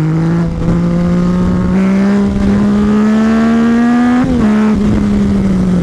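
A loud, close Yamaha MT-09 motorcycle engine screams at high revs accelerating out of a corner with the front wheel lifting, its pitch rising steadily with brief dips as the throttle works.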